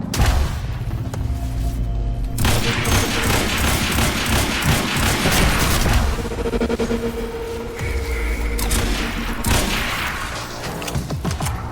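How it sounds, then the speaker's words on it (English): Rifle gunfire in a video game, with sustained rapid shots and booming bursts forming a dense, loud barrage over steady background rumble, pausing briefly and then resuming. "Let me use this rifle."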